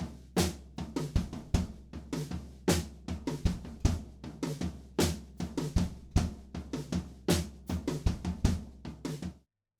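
Acoustic drum kit groove in a song, played mostly on the toms with kick drum hits, a busy steady pattern of close, loud strikes ending abruptly.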